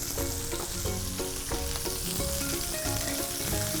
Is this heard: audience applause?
no